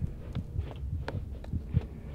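A heartbeat pounds in the horror game Among The Sleep, with a series of deep, muffled throbbing thumps in an uneven rhythm under a low ambient hum.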